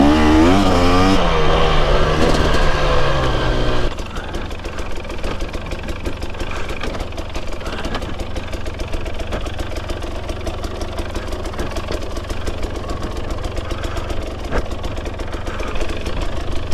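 A 2024 KTM EXC 250 motorcycle engine revs up with a rising, harmonic whine for about four seconds, then settles into a loud, continuous riding roar mixed with wind rumble, close and steady throughout.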